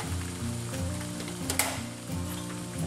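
Ground burger meat sizzling in a pan as chopped cabbage, garlic and onion go in, a steady close frying hiss with a brief louder crackle burst midway, no talking.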